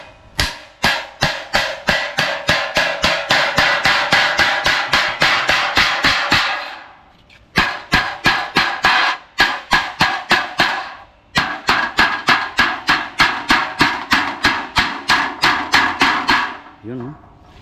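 Rapid, regular hammer blows near cement work, loud and close, coming in long runs of sharp strikes with two short pauses between bursts.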